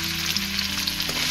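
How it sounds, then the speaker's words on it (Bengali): Shrimp frying in hot mustard oil: a loud, close, continuous sizzle with a faint steady hum underneath, with no talking. "এখন আমি দিয়ে দিচ্ছি চিংড়ি মাছ।"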